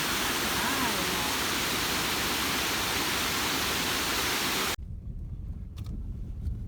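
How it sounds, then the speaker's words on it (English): A waterfall roars as a dense, steady rush of broadband water noise, loud and continuous, then cuts abruptly to a quieter outdoor background with a few faint sounds. "First time we've actually stopped and seen this waterfall,"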